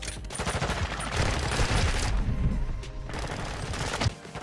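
Rapid gunfire from Modern Warfare 2 online multiplayer, a dense, loud stretch of automatic shots and booms running continuously, with a brief lull before the firing resumes.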